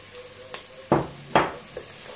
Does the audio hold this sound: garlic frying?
yes